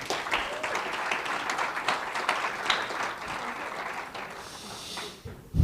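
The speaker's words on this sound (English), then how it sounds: "So give the girls a clap, please." A steady round of applause from a crowd, even clapping sustained for several seconds before tapering off at the end.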